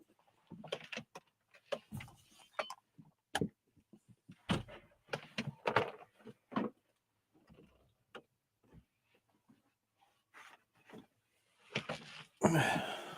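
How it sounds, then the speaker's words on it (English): A house door opened to let a dog in or out, heard as a few scattered thunks, latch clicks and rattles close by, with louder handling at the end. "I got to make sure that the dog opened the door here."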